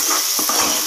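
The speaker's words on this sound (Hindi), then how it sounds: "प्याज हल्के से लाल होने के बाद मैंने लहसुन अदरक का पेस्ट डाल दिया है।" Garlic ginger paste sizzles in a frying pan with onions, a loud continuous crackling fry with a few stirring scrapes of a utensil, no voices.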